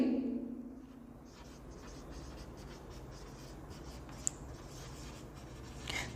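Marker or chalk writing on a board during a maths lesson on relations and functions: soft scratchy strokes and taps, fairly quiet and close, with no talking.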